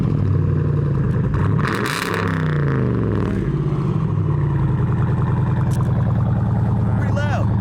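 A car engine revs loudly at close range, rising and falling in pitch while voices talk over it.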